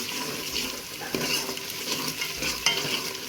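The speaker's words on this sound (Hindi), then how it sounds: "अब मैं इसमें ये हमारे ड्राई मसाले डाल रही हूँ" Dry spices frying in a pan where garlic and ginger cook, a busy crackling sizzle with scraping stirs and small spikes, close and continuous throughout.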